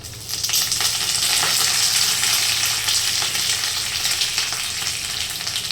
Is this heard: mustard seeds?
yes